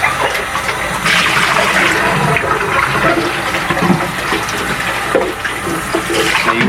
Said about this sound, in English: I'll dump the eggs down the sink